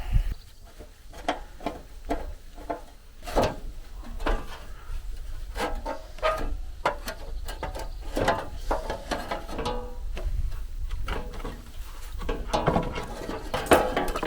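Metallic clanks, ratcheting clicks and tool knocks repeat irregularly at close range, the sound of bolts being worked loose on the engine cover of a Massey Ferguson MF30 tractor.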